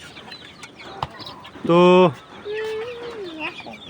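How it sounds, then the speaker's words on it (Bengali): Young broiler chicks kept in a hot shed and panting in summer heat give a sudden loud, drawn-out squawking call, then a thinner wavering cry, close by, with brief talk in between. "এই যে এইখানে মুরগির বাচ্চাগুলো দেখেন কি একটা অবস্থা"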